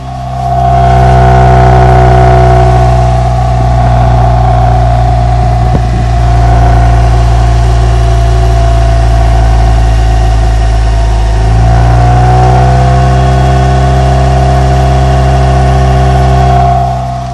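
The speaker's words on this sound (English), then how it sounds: "You can hear the exhaust on it." A 1992 Honda Prelude with a swapped JDM H22A engine and an idle surge problem idles loudly and close, a steady deep exhaust rumble that dips in pitch as it settles down partway through.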